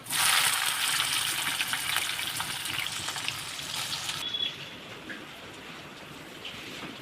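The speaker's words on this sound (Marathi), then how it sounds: "त्यामध्ये मी घालते कांदा" Sliced onion dropped into hot oil with browned garlic in a kadhai, a loud, bright sizzle that surges at first and then settles into a softer, steady frying hiss.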